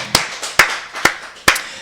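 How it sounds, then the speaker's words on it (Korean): A Korean Full Gospel congregation at a Wednesday worship service claps in unison, four sharp, loud claps in an even, steady rhythm with quiet gaps between them. "우리 박수를 하나님께 영광 드리겠습니다"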